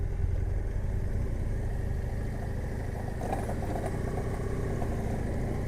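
Several motorcycle engines idle together in a steady, rumbling drone, with no talking over it.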